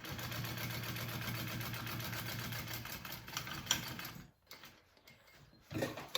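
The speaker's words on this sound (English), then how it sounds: "we're going to top stitch along the side panel" A sewing machine top stitches along a handbag side panel, a fast even mechanical whir for about four seconds, then stops, leaving quieter handling noises and a brief restart near the end.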